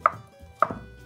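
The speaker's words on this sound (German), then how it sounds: "Hier schneide ich die Würfel auch haselnuss groß ungefähr." Zucchini is chopped into hazelnut-sized cubes on a cutting board: two crisp knife strikes about half a second apart, close and clear, with no talk.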